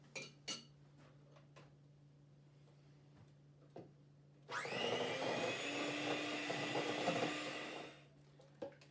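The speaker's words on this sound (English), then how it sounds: "This you want to mix up with your super high power hand mixer." High-power electric hand mixer beating banana berry muffin batter, one steady whirring run of a few seconds after some light clinks and taps, fairly quiet, no talking.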